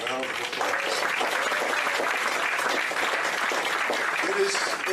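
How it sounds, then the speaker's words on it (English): A crowd at a memorial ceremony gives a sustained round of dense applause that holds steady throughout, with a few voices faintly audible beneath it. "Let's give him another round of applause."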